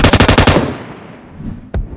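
A close, loud burst of automatic gunfire in PUBG Mobile, about seven rapid shots in a tight rhythm, then a decaying echo and one more sharp shot.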